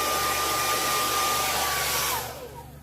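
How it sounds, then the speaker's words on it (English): A blow dryer blasts warm air in a steady, loud whoosh with a faint whine, drying a mounted gadwall duck on a carved body, then cuts off and fades out. "Every blow dryer is different. I give it short bursts of warm air"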